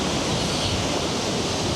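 Aliwagwag Falls, a tall roadside waterfall in the Philippines, roars with strong, steady rushing water, a loud unbroken wash of noise close by.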